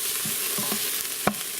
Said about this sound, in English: there is the onion and the celery, getting semi-transparent.